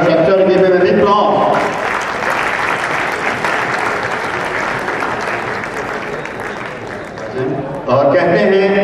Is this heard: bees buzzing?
no